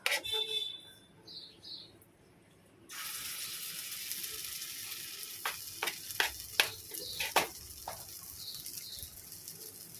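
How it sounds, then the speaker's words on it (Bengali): Poppy seed posto fritters are spooned into hot oil, a quiet lead-in giving way to a steady bright sizzle, with several crisp spoon taps and clinks against the pan over it. "তেলও গরম হয়ে গেছে আর এদিকে ভাত বসিয়ে দিচ্ছি চামচে নিয়ে আসলাম নিচ থেকে চামচে করে করে ভাজবো"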